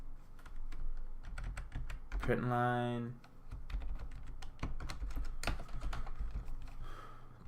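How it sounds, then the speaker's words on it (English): Rapid, uneven clicking of keys on a computer keyboard continues throughout, interrupted once by a short spoken phrase. "I'm not used to typing this"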